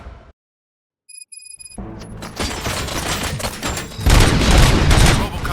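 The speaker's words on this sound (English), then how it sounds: "Gunshots? What's going on?" Gunshots in RoboCop: Rogue City break out after a moment of near silence and electronic beeps, building into a loud, dense barrage of rapid fire and booming impacts.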